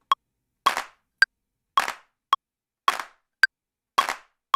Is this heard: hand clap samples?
yes